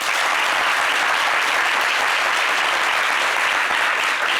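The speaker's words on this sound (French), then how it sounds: "Applaudissez." A studio audience at a fashion talk show applauds loudly and continuously, a dense, even clatter of many hands lasting several seconds with no speech over it.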